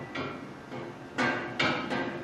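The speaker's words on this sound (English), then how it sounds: "So actually just quickly tack these on." Quick tack welds join steel sliders to a budget camp trailer chassis, a few short crackling bursts spaced irregularly, close and fairly loud with no talking.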